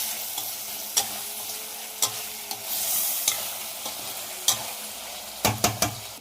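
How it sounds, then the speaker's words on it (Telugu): Spoon stirring chicken curry with tomatoes, cumin powder and gongura in a frying pan, soft sizzling underneath with several sharp scrapes and clinks against the pan, closest and busiest near the end. "జీరా పొడి, కొంచెం టమాటాలు వేసుకొని ఒకసారిగా కలిపి వేసేసుకున్నాం."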